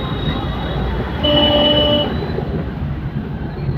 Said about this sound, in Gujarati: આપણે પાટણની અંદર રેલવે સ્ટેશન આવી ગયા